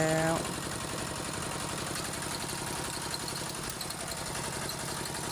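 A farm tractor engine idles beside a rice field with a steady rhythmic chugging throb, fairly close and continuous after a brief louder start.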